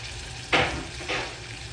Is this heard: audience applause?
no